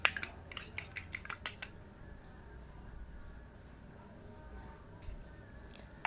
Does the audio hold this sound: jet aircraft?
no